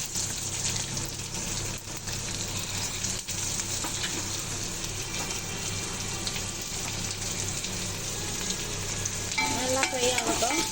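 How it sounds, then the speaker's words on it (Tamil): Onions fry in a pan for paneer butter masala, with a steady close sizzle that runs throughout and occasional stirring scrapes, and no voices over it. "நல்லா ஃப்ரை ஆகட்டும்."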